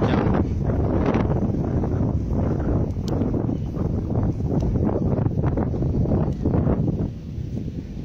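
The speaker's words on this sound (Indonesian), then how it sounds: "Angin sangat kencang." Strong wind sweeps across an exposed historic tomb site in Aceh, producing a constant, loud, rumbling buffet against the microphone that eases slightly near the end.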